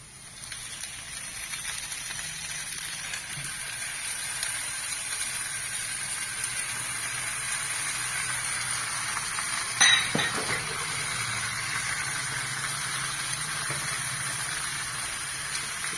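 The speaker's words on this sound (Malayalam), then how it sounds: "ഇനി അതിലേക്ക് ചിക്കൻ ഇടുക." Chicken pieces fry in a tomato masala for chicken biryani, a steady moderate sizzle that carries on throughout, with one brief sharp clink near the middle and no voices.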